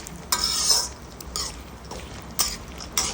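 Almonds and other dry fruits fry in a pan for carrot halwa, bursts of sizzling alternating with quick scrapes and clinks of a spoon stirring, close and fairly loud, with no voices.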